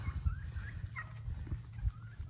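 Several turkeys give soft clucks, yelps and purring calls, scattered and overlapping, at moderate distance over a low background rumble.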